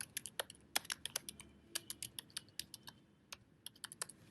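Rapid, uneven keystrokes on a computer keyboard while entering a text string into a web page, with clicks clustering in quick bursts and short pauses, close and fairly quiet, with no talking.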